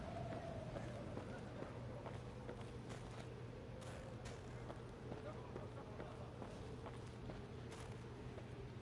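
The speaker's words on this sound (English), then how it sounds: "The sound of approaching hoofbeats made Meve turn to see Reynard spurring on hi" Galloping horse hoofbeats from the fantasy video game Thronebreaker, a steady run of soft clip-clop beats under a constant wind-like bed of game ambience and a low hum.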